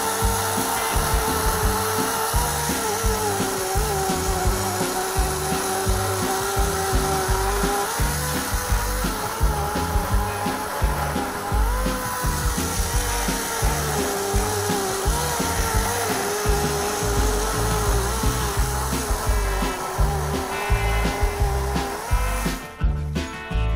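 A chainsaw makes the back cut while felling a tree, its engine droning steadily and loudly under load as the chain bites through wood, with a brief dip right at the end.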